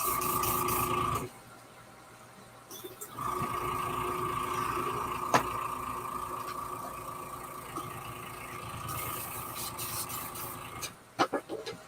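Airbrush flushed through with cleaner, a steady close hissing spray with a tonal whine that runs in bursts, cutting off briefly between sprays and ending with a few sharp clicks.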